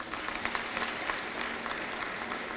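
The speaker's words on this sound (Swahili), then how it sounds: "Kwa mara nyingine tena tuwapigie makofi mengi sana" Applause from an audience at a speech marking the expansion of the Saturn vehicle factory, a dense, even clatter of clapping holding steady at moderate distance throughout.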